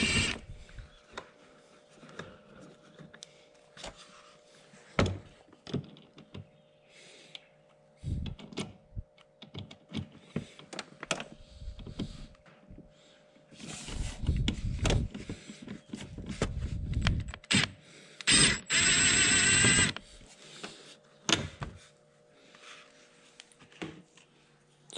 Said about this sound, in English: There's four screws holding this on, two on each side.